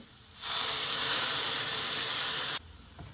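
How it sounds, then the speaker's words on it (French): Armagnac poured over onions in a hot pan bursts into a loud, steady hiss of steam and sizzle lasting about two seconds before cutting off abruptly. "je vais déglacer mes oignons avec un petit peu d'armagnac"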